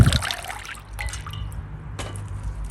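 Water trickles and drips steadily as it drains from an orchid pot, with a low continuous rumble underneath and a few faint splashes; no one speaks.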